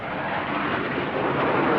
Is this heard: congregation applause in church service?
no